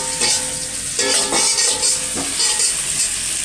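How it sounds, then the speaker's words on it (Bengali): Onions frying in a pan of hot oil for a fish curry, a steady bright sizzle with spoon scrapes and stirring knocks every so often, close and continuous with no talking. "পেঁয়াজটা এখানে ভাজা হচ্ছে"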